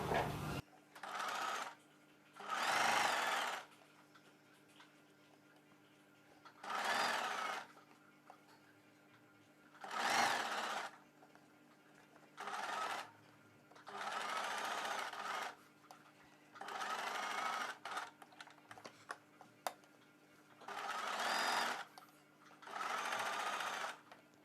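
Sewing machine stitching a buckram piece onto a kurti, running in about a dozen distinct bursts of rapid whirring stitches separated by short pauses, close and clear, with no talk.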